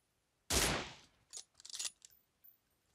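PUBG Mobile gunfire opens with one loud, close shot, followed by a short cluster of fainter cracks and rattles and a last soft pop, with quiet gaps between them.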